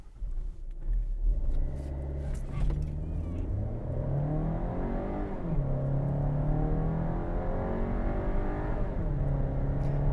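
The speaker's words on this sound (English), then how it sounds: "let's see what the Tiguan can pull off in a sprint to 60" A 2022 VW Tiguan accelerates hard in a sprint to 60 mph, its engine note climbing steadily through the gears with clear dips at each upshift, a loud continuous drone from inside the cabin.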